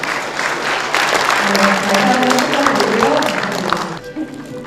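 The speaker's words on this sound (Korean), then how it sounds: "여러분 큰 박수 부탁드리겠습니다" An audience at a Korean awards ceremony applauds the Iksan mayor receiving a Forbes CEO grand prize, loud steady clapping with a musical fanfare running beneath, tapering off near the end.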